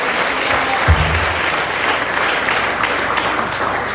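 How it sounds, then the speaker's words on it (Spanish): A church congregation breaks into loud, steady applause during a wedding service, the clapping sustained for several seconds while a voice briefly carries over it. "Denle ofrenda de palmas"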